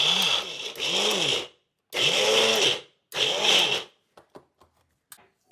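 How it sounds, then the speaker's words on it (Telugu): A mixie electric blender grinding onion and coriander whirs loudly in three short pulses, each a few seconds long with brief pauses between, followed by a few faint clicks and taps. "మరి మిక్సీలో వేస్తే మెత్తగా అవుతుందని నేను బ్లెండర్లో వేస్తున్నాను"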